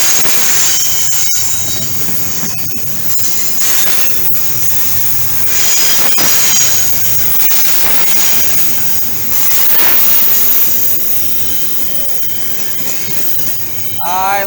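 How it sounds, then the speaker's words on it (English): A train with a caboose rolls past on rails, loud and close, with continuous rumbling, clattering wheels and sharp metallic squeals, plus a rising squeal near the end. "Bye-bye, train."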